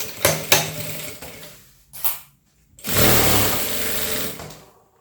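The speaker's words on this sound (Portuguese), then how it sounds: "E faz a costura no mesmo lugar que você já fez." A sewing machine stitches a phone holder in short bursts, with two quick runs, a brief one in the middle, then a longer, louder sustained run, separated by quiet pauses.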